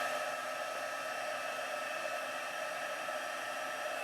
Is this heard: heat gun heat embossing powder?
yes